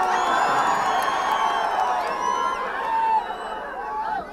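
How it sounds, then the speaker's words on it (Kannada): A campaign rally crowd cheering and whooping outdoors in the heat, a dense, loud roar of voices that fades slightly near the end. "ಅವರು ಚಪ್ಪಾಳೆ ಹಿಡ್ತಾರೆ ನನಗೆ."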